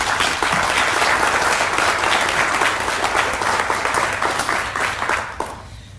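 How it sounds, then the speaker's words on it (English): An audience at a Teacher of the Year ceremony gives a round of applause, a loud, even wash of clapping that holds for several seconds and then fades out. "One more round of applause for Vernity Motor Cars"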